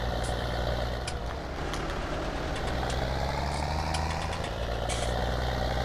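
A tractor engine idles in Farming Simulator 19, a steady low rumble with a constant hum and occasional faint clicks, alone and at even loudness from start to finish.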